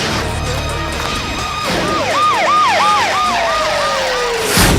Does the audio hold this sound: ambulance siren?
yes